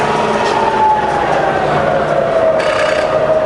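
A milling machine's variable speed head runs at about 1000 RPM, a loud, continuous mechanical whine and hum with a steady tone that drifts slightly lower near the end.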